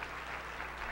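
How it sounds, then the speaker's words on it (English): A university audience at a talk about autism at the University of Alabama gives a brief, faint, diffuse patter of clapping heard from a distance. "I would like you guys to clap"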